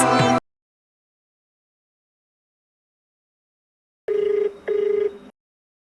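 A telephone rings for an incoming call, two short electronic ring bursts close together near the end, clear and loud, following a brief snatch of sound at the start and a long silence.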